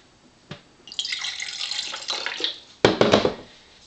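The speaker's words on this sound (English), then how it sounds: "I'm going to go ahead and pour some." Filtered water poured from a WellBlue pH ionizer pitcher: a steady trickling pour lasts about a second and a half, then a louder splashing gush follows before it stops.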